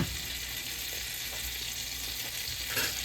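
Butter sizzling and frying in a cast iron skillet, a steady, soft crackling hiss that runs on evenly throughout with no voices.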